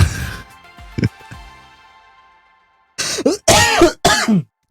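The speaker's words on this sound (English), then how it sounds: "I am coughing from laughing." A person coughs and clears their throat from laughing, a few sharp bursts up close at the start, then a pause and a rapid cluster of harsh, wheezy coughs and throat-clearing near the end.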